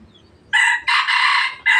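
Crowing from a young mestizo labuyo rooster, loud and near, a sharp opening note followed by a long sustained call and the start of another, with no voices.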